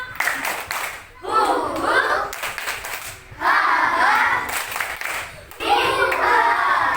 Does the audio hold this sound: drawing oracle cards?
no